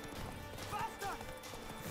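Horse hooves clip-clop at a quick gallop in The Witcher 3, a steady rhythmic patter mixed under game sounds and someone speaking Spanish.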